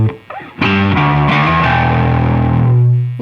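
Bass guitar played through a Barber Electronics Gain Changer distortion pedal, a thick fuzzy riff of a few sustained notes starting after a brief pause and ringing out loud and alone.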